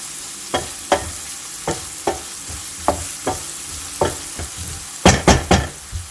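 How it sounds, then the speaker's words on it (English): Chopped onions fry and brown in a pan for a tomato egg drop curry, a soft sizzle broken by regular scraping stirs, then a quick run of louder spoon strokes near the end, with no talking. "Mix it once and let it brown up nicely."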